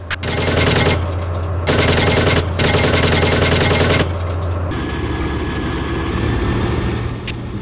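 Coaxial machine gun on a tank firing at troops in Steel Beasts Pro PE, three loud sustained bursts of rapid fire over a constant low engine idle, then only the engine rumble remains.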